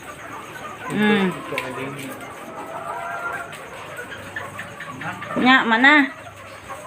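Chickens cluck in a couple of short bursts around a nest box, with people chatting in the background between the calls.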